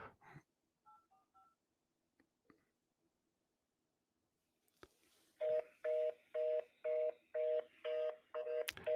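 A few faint keypad beeps come first, then after a pause a telephone's ringing tone repeats in a steady rhythm of about eight evenly spaced pulses, loud and close.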